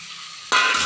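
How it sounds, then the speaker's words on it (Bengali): Potatoes and eggs drop into a pan of spice paste frying in oil, setting off a sudden loud sizzle halfway through after a quieter steady fry, with no voices. "এবার আমি আলু আর ডিম দিয়ে দেবো"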